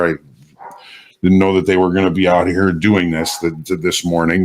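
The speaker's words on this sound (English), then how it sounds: "Sorry about the barking dog there." A dog barks outdoors in the background, largely buried under a man's steady, close talking.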